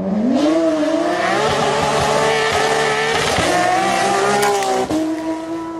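Toy sports car sound effect of a racing engine, loud continuous revving with pitch climbing and shifting across gear changes, close and steady throughout.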